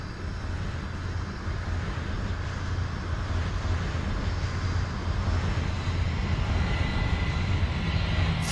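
A United airliner takes off from runway 27 left at Chicago O'Hare, producing a continuous broad jet roar heard at moderate distance and holding steady, with a slight swell toward the end.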